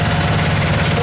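A 23 horsepower V-twin engine on a Skag mower idles with a steady, close, even rumble for a brief moment.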